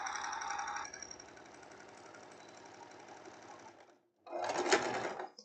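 Sewing machine stitching crepe fabric in a double topstitch pass, running steadily with a dense mechanical whir for several seconds, going quiet briefly, then starting again in a louder burst.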